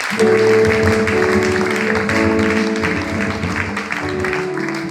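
A church congregation claps and cheers in acclaim of Jesus Christ, a loud, steady wash of applause mixed with sustained musical tones and raised voices, lasting throughout.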